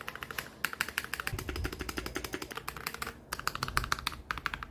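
Fast typing on a keyboard fitted with heavy ceramic keycaps, a close, crisp run of clacky keystrokes in bursts with a brief pause midway, no voices.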